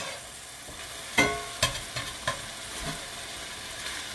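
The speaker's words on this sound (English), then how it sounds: "Give this a little bit of a stir." Meat pie filling stirred in a pan, a soft sizzle under a handful of scraping knocks from a spoon against the pan, irregular and close, with no talking.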